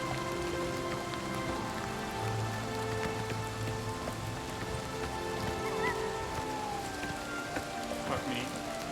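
Steady rain falling in Oblivion Remastered, a constant soft patter of drops hissing across the ground, with low tonal game sounds and music running underneath.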